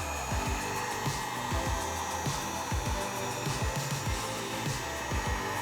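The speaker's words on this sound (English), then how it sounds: "when you're using a heat gun" A heat gun blows steadily to shrink heat shrink tubing during a microKORG power switch repair, a continuous airy hiss with a low fan hum and faint rhythmic clicking underneath, close and even throughout.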